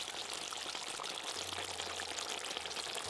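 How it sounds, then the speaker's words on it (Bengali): Snakehead fish with raw mango bubbles softly in a steaming pot, a continuous faint hiss and gurgle with no voices. "এই দেখুন কি সুন্দর ফুটছে।"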